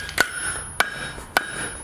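A blacksmith hammers out the handle of an 18th–19th century style toaster: three sharp ringing metal strikes spaced roughly half a second apart, close and clear over a quiet background.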